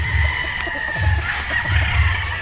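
A Sweater Boston Bulik gamecock crows loudly and close by, two drawn-out calls in quick succession over a steady background hum.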